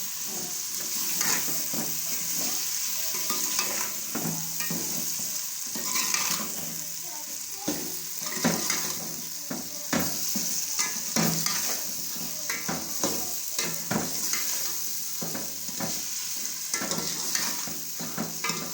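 Tomatoes fry in a pan on a gas stove, with a steady loud sizzle and a spoon repeatedly scraping and clinking against the pan in a fairly regular stirring rhythm, close by and without talk.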